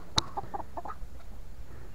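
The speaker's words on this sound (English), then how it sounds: "my blue chickens? You see how pretty they are?" Blue chickens on a farm give a short burst of soft clucks after one sharp click, close by and fairly quiet over a low background hum.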